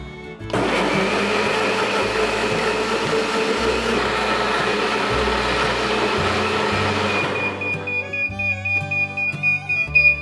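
A kitchen blender whirs loudly and steadily, blending washed laver seaweed with glutinous rice flour, sweet potato starch and filtered water, then winds down and slows with uneven pulses near the end.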